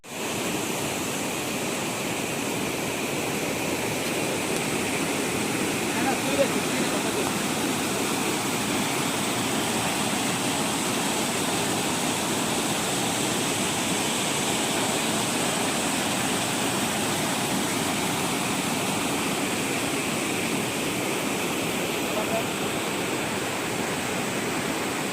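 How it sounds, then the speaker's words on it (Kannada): Water rushes continuously at an unusual spot where it seems to flow upward, a loud, even, unbroken roar with no talk. "ಇಲ್ಲಿ ಮಾತ್ರ ವಿಚಿತ್ರವಾಗಿ ನೀರು ಮೇಲೆ ಹೋಗ್ತಾ ಇದೆ"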